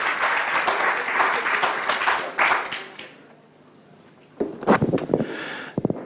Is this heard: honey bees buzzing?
no